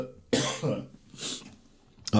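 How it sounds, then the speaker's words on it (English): A man coughs twice in quick, harsh bursts, with a throat-clearing rasp between and a short final cough at the end, close to the microphone. "I do apologize for me coughing right now"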